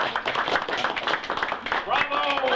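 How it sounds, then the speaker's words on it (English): A crowd claps steadily for a couple of seconds, dense and fairly loud, with some voices mixed in and a brief whistle-like tone near the end. "give her a great big round of applause"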